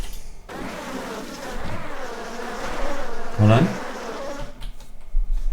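Wasps buzz in the Ashen Empires video game, a continuous close insect drone that swells and wavers over several seconds while someone speaks briefly.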